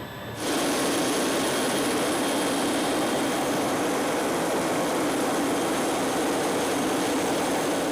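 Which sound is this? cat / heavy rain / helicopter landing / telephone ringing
helicopter landing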